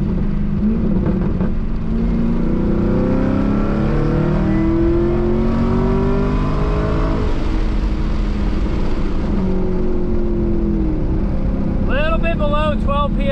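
Modified Camaro ZL1 1LE with a supercharged engine, heard as a loud, steady engine drone rising in pitch under acceleration, with someone talking over it throughout.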